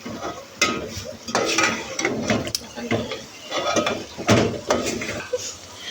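Okra being stirred and roasted in a pan gives irregular scraping and clinking of a utensil against metal, close and moderately loud, with a faint sizzle underneath.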